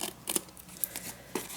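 Paper from vintage book pages is trimmed with scissors in a few quiet, close snips spaced across a second or so, heard alone.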